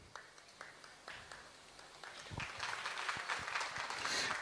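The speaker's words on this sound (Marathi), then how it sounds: "टाळ्या बाळ्या टाळ्या" Applause from an audience at a karaoke competition award ceremony, starting as scattered, quiet claps and thickening into a steadier round toward the end, fairly faint overall.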